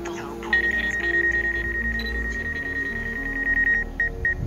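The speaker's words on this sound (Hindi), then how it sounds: "ये जो आपको आवाज़ सुनाई दे रही है, ये सेंसर्स की आवाज़ है" A drone's obstacle sensors beep in a steady repeating series of short, high tones after detecting a nearby object, running through most of the moment over a low rumble of background noise.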